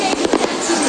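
Fireworks bursting at a New Year's celebration in the Philippines, a quick cluster of sharp cracks and pops in under a second, with a voice speaking over them.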